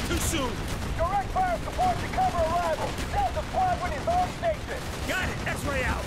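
Combat in the first-person shooter Call of Duty: Black Ops, where a tank fires on the player. Sharp gunfire bursts and heavy impacts repeat through the clip, mixed with game voices and music.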